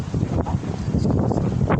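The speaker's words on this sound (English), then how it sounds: "Just as well, because it's so windy anyways here." Gusty wind buffets the microphone on a tiny outdoor patio in a smokers' section, a steady low rumble with a few stronger gusts toward the end.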